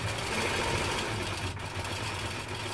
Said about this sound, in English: Bring the machine back over very carefully. Make sure the binding is up underneath of the foot. Come in and just take a few stitches.